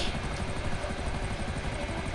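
Buzzard helicopter flying in the video game GTA, a steady loud rotor and engine drone with a rhythmic low thumping throughout, with no talking.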